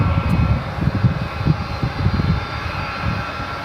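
A jet airplane takes off at DFW Airport, its engines a loud, steady roar with rumbling low-end pulses throughout, heard alone without voices.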